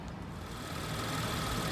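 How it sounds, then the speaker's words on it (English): A fuel-injected car engine idles steadily after running for a minute or two, giving a constant low hum with no rise or fall. "I've had the engine running here for about a minute or two."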